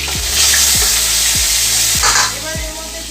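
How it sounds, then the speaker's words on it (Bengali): Loud, constant sizzling and crackling of whole garam masala, dried red chillies and bay leaves frying in hot oil in a kadai, with a few rhythmic low thumps from stirring. "তেলটা গরম করতে দিলাম এবার কড়াইতে দেব গোটা গরম মশলা আর শুকনো লঙ্কা আর তেজপাতা"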